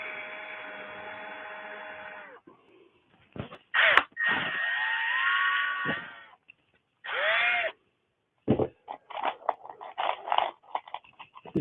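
A power drill spins out screws in a cold workshop, several separate bursts of whirring with a rising and falling pitch, close and loud, with pauses and small clicks and knocks between them.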